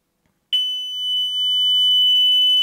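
Indoor Zigbee alarm siren sounds after a brief silence, a loud, piercing steady high tone held continuously and close.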